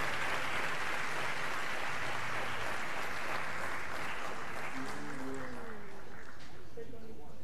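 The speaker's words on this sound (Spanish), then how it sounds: "Una ronda de aplausos para Udo Bullmann, que se va a acercar al escenario." Sustained crowd applause at a political event as a speaker comes to the stage. The applause is broad and steady, easing off toward the end as a voice starts talking over it.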